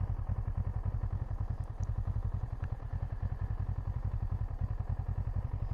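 A 2014 Kawasaki ER6N ABS naked motorcycle, showing 19,900 km, idles steadily nearby, with a rapid, even engine throb and light mechanical clatter lasting the whole stretch.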